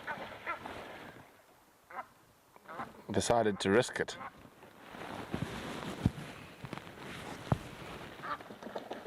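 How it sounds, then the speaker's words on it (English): Egyptian geese honk and call in a quick burst partway through, fairly close, on a live safari in the African bush, with someone talking quietly before and after and the wildlife ambience in between. "Oh, Egyptian geese"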